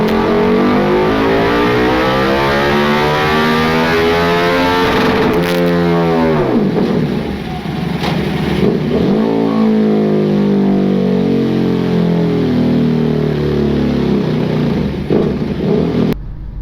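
A remapped KTM RC8 motorcycle with a Jester exhaust runs on a dyno, its engine roaring loud and steady. Revs sweep up and drop back several times without a break.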